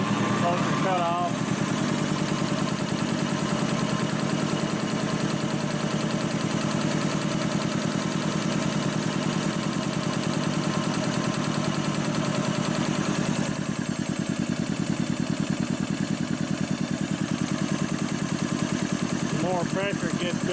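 An industrial two-stage air compressor, freshly rebuilt, runs loud and steady under building tank pressure, a continuous mechanical drone with a rapid ticking of its valves opening and closing throughout.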